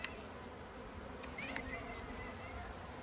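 Honeybee colony buzzing in an open hive during a spring inspection, a faint steady insect drone with a few brief higher tones, low-level and continuous throughout.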